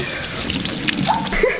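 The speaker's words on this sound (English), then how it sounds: "Turn the water off." Water runs from a household tap into a sink, a brief, steady splashing stream heard close up.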